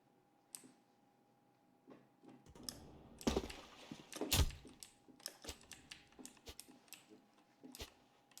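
Computer keyboard keys pressed during play of a surfing video game, sparse single taps and short clustered bursts of clicks, close and fairly quiet, with no talking.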